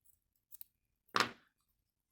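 A single quick snip of scissors cuts through crochet yarn, close and soft, preceded by a couple of faint small clicks in an otherwise quiet room.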